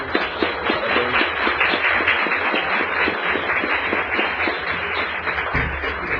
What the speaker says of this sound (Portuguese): Primeiro, uma salva de palmas para a doutora,